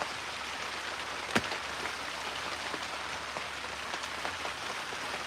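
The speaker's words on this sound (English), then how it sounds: "I'm out here and it's raining and dusty" Steady rain falls outdoors at a woodworker's place, a soft even hiss of drops throughout with one brief sharp tap partway through.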